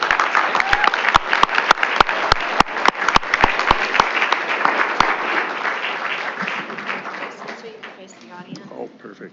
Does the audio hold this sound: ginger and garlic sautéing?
no